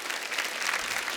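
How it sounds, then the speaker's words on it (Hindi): Studio audience applause on an Indian television comedy talk show, a short, fairly quiet burst of steady clapping. "अंकिता लोखंडे के लिए जोरदार ताली हो जाए"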